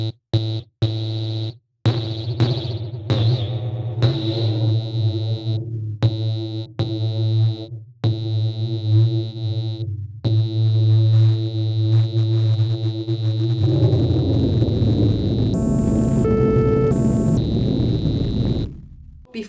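A modular synthesizer voice runs through a Desmodus reverb module with a Xaoc Devices Zagrzeb filter, playing repeated gated tones with a sustained hum and ringing reverb tail, and brighter shifting pitched tones swelling later on, loud with no talk.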